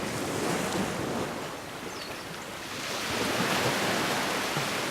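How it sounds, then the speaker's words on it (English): Ocean waves at dawn wash in a broad, continuous surf roar that swells, eases briefly in the middle and then builds again, with some wind noise and no voices. "with those sounds of the ocean."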